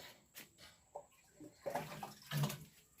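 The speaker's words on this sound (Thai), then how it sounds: "ตักน้ำใส่" Water is scooped and poured in a home kitchen while cooking mushroom curry, a few soft splashes and trickles in separate bursts, close and fairly quiet with no talking.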